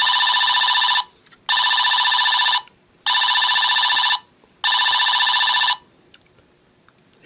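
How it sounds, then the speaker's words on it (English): A knockoff oversized Dark of the Moon Megatron toy's phone rings with a loud electronic telephone-style trill, sounding in four long bursts separated by short pauses, followed by faint clicks. "His phone starts ringing."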